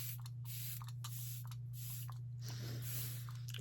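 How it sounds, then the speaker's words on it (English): Makeup setting spray hisses from a pump bottle in a run of short, soft bursts close by, over a steady low electrical hum. "then go in with setting spray."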